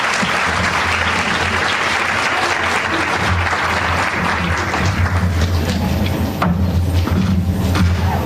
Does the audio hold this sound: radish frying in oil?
no